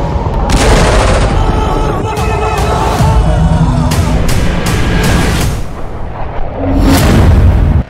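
Loud, dense barrage of booms and blasts from bombing in Gaza, with layered rumbling impacts and crackling bursts running continuously, a few sharper hits standing out near the end.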